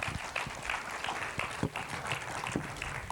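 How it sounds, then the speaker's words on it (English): Applause from an audience at a talk, honouring a woman named Joyce: a fairly soft, steady patter of many hands with a few sharper claps standing out over about three seconds, without talk. "round of applause for Joyce, please"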